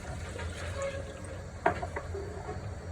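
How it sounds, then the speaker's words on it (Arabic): A glass of water is poured into a pan of frying tomatoes, heard as a brief splash and sizzle over a steady background hiss, with no talking. "ندير كاس ماء"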